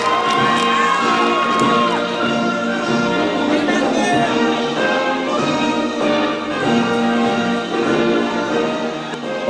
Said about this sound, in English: Put your hands together and let's hear it for your guest of honor